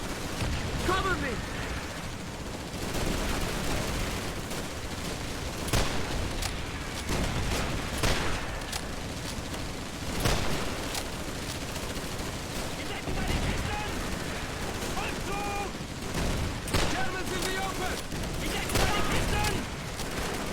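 Rapid gunfire and bursts of machine-gun fire in the Call of Duty 3 video game, a dense, continuous barrage of shots and booms over about twenty seconds, with voices shouting through the battle.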